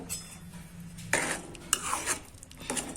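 A spoon clinks and scrapes against a pot while sweet potato is mixed with milk, giving a few close, sharp metallic taps over a quiet background.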